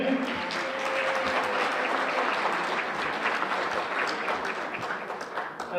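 Audience applause at a senior luncheon, a sustained wash of clapping from a roomful of people that holds steady throughout and tapers slightly near the end, with faint voices underneath.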